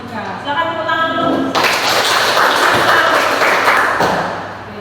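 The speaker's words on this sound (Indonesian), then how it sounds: "Silakan tepuk tangan dulu." Applause breaks out in a classroom, a dense, loud burst of many hands clapping together and holding steady for several seconds. It follows a short spoken moment and tapers slightly at the end.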